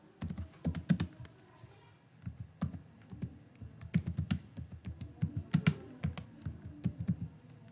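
Typing on a computer keyboard while entering a web page title in an HTML lesson: quick, irregular bursts of close, crisp key clicks, some louder, continuing steadily with no talking.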